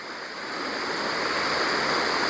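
A waterfall of white, frothy, swirling water pours in a steady, loud, broadband rush that swells slightly over the stretch, with no voices.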